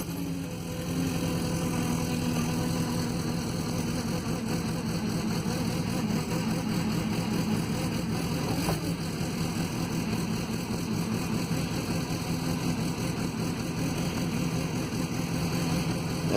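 Volkswagen Vanagon fuel-injected engine idling after a cold start, a steady low rumble with a constant hum, heard close and continuous throughout without talk.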